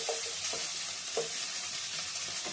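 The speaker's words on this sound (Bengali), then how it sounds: "সামান্য এই 2-3 ফোঁটা তেল দিয়ে একটু ঢ্যাঁড়সটাকে নেড়ে নিতে হবে" Okra stirred in a pan with just a few drops of oil sizzles steadily and loudly, with periodic soft scrapes of the spatula punctuating the hiss.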